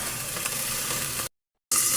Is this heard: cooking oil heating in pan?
yes